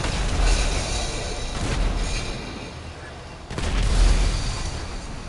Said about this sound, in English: I'm just gonna start a chain reaction of vehicle explosions